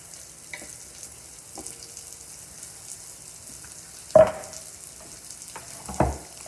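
Onions and garlic fry in a pan left unwashed from earlier cooking, giving a faint, steady sizzle with a few sharp utensil clanks and louder bursts of stirring near the end.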